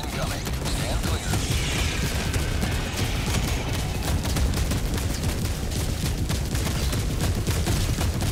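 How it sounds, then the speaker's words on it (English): An orbital barrage strike in Helldivers 2 lands as dense, continuous rumbling blasts and crackling impacts that fill the whole stretch at steady loudness. "Orbital barrage incoming."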